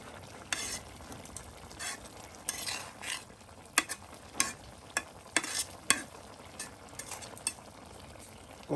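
Potato fritters (aloo bora) frying in a pan, a soft steady sizzle broken by repeated sharp scrapes and taps of a utensil stirring against the metal, close and fairly quiet.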